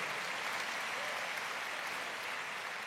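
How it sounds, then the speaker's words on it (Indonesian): Sustained applause from a church congregation during a sermon, a dense steady wash of clapping that fills the whole moment at even loudness without a break. "Berikan tepuk tangan."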